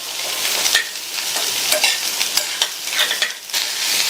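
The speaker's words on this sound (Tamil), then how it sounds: "இந்த பீன்ஸை எண்ணெயிலேயே ஹை ஃப்ளேமில் வச்சு ஒரு 2 நிமிஷத்துக்கு வதக்கிக்கலாம்" Cut beans stir-fried in oil over a high flame, a loud hissing sizzle with repeated scraping stirs and tosses throughout.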